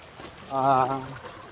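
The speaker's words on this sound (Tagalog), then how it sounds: "Ito yung ilog na to mga idol" A river flowing over rocks in a forest gives a steady, soft rushing wash throughout, with a brief voice rising over it in the middle.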